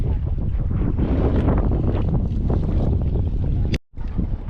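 Loud, continuous strong wind buffets the microphone with a rough, roaring rumble during net fishing, cutting out briefly near the end before resuming.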